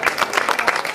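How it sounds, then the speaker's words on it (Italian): Audience applause for the artists at a Calabrian cultural and traditions evening, a dense, steady patter of many hands clapping close by for the whole second, with no voices over it. "l'applauso va ai nostri artisti"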